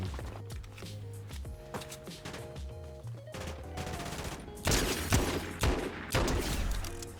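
Gunfire in Fortnite, with rapid bursts of shots crackling over game sounds. The firing grows louder and denser toward the end, with no speech over it.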